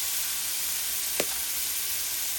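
Tomato and spices hit browning onions in a pan for a jackfruit curry, giving a steady bright sizzle with a brief sharp hiss partway through; no one speaks.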